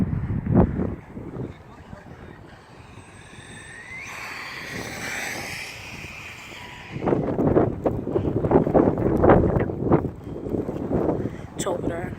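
Strong wind blowing outdoors at a park, rough gusting rumble buffeting the microphone, loudest at the start and end, with a whining toy car motor passing in the middle and people talking.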